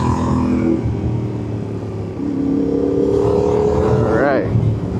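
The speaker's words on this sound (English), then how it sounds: "Here comes a bus." A bus rolls past a Tenere 700 motorcycle on an off-road trail. The engine roar is loud and close, with a rising pitched whine near the end as it goes by.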